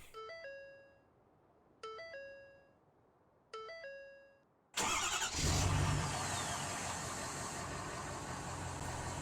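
In Farming Simulator 19, a 2020 Ford F-Series with a Power Stroke engine plays a three-note chime, repeated three times, before the engine cranks and catches into a loud, steady idle.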